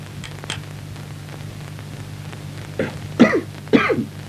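A man coughs in a few rough bursts near the end of a scene in a Turkish film from 1981, heard over a low steady hum and background hiss with no talk.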